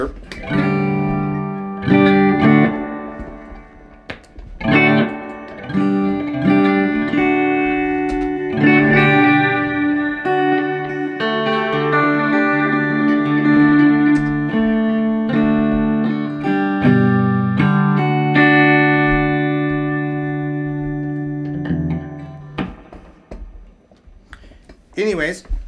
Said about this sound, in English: that pedal ran through with the reverb. We've got the dig and the reverb on the Fender Twin.